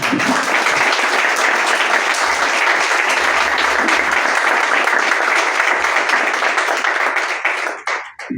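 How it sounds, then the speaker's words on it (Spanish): A book-launch audience gives dense, sustained applause that stays loud and even for about eight seconds, then thins out and fades at the end. "Un aplauso, por favor, para David"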